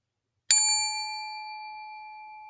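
A single bright bell ding rings out cleanly and close, its pure tone sustaining and slowly fading in otherwise silent surroundings.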